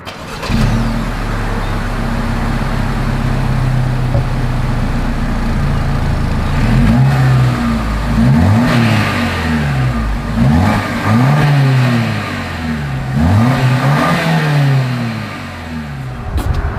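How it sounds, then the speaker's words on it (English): A 2025 Lexus NX 350 idling, then revved repeatedly from outside the car, with several sharp rises and falls in engine pitch and a steady exhaust drone between them, no talking. "As always, here is that exhaust clip."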